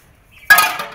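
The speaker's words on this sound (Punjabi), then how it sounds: "ਅੰਦਰ ਸਿੰਕ ਜੇ 'ਚ ਮਾਂਜਣੇ ਮੈਨੂੰ ਬਹੁਤ ਔਖੇ ਲੱਗਦੇ ਨੇ ਭਾਂਡੇ" A single sharp clatter of utensils and pots being washed, a bright close metallic clink that rings briefly and fades after a moment of near silence.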